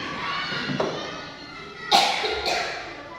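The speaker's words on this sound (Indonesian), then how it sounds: "Maaf, Bu agak batuk." A single sharp cough bursts out close to the microphone, followed by a second smaller catch, against a steady background hiss.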